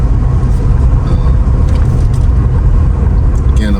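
A Mercedes R129 SL500 is driving with a quiet engine, giving a steady low rumble of engine and road noise inside the cabin that holds an even level throughout.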